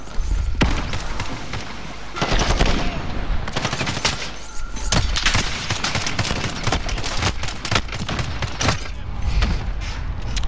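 Dense gunfire in Call of Duty: Modern Warfare / Cold War on the small Shipment map, with rapid overlapping shots and bursts firing almost nonstop over a loud, busy mix of game effects.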